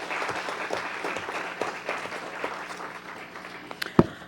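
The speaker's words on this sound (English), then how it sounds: "please give me a round of applause as well" Applause at a city council meeting: a room of people clapping steadily and moderately, with one sharp knock near the end.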